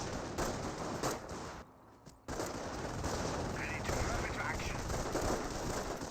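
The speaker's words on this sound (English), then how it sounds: "Sounds like a grenade hits." Battle noise from Company of Heroes, a World War II strategy game, with a grenade blast among dense rattling gunfire that runs almost the whole time, dropping briefly to quieter rumble before resuming loud and continuous.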